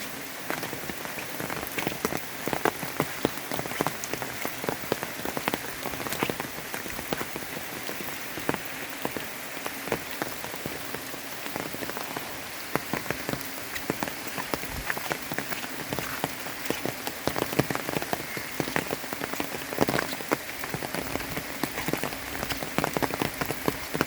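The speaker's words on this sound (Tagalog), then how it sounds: "malaki na nga ang tubig na rumaragasa" Swollen flood water rushes down a river after heavy rain, a dense, steady wash of noise with no letup, heard from the riverbank at moderate level with no voices.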